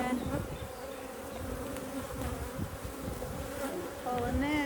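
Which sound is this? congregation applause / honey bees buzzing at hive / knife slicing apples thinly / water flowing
honey bees buzzing at hive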